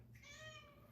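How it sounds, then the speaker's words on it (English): A house cat gives a single short, faint meow, heard indoors over a low steady background hum. "You guys hear my cat?"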